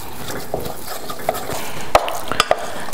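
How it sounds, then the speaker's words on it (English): Flour is stirred vigorously into choux pastry dough in a pot, with soft scraping and a few sharp spoon knocks against the pot over a low background hiss. "Then we're gonna dump all that flour in and stir like the dickens"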